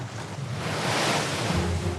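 Wind and waves batter a boat on a lake in rough, gusty conditions, a loud continuous roar of surf and wind buffeting the microphone with no one speaking.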